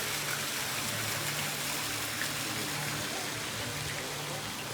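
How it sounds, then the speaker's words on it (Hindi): Water pours steadily over a Shiva lingam inside a temple, a continuous close gushing wash that holds at an even level throughout, with faint voices in the background. "ये देखो भोलेनाथ के ऊपर जलाभिषेक हो रहा है पानी के अंदर"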